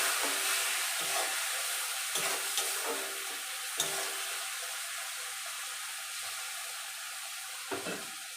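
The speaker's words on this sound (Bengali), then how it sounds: "সামান্য জল দিয়ে দিলাম যাতে মশলাগুলো পুড়ে না যায়।" A soft sizzle of spices frying in a pan with a little water and salt added for a fish curry, faint and steady, punctuated by repeated scraping stirs, with no voices.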